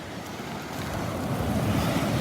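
Rough surf rolls onto Vanderbilt Beach on a morning after rain, a continuous broad wash of breaking waves mixed with wind buffeting the microphone, steady and building slightly.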